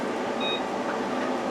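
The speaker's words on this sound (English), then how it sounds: "I'm gonna set a timer for 20 on my microwave" A single short electronic beep from a microwave as its timer is set, heard briefly over a steady background hum.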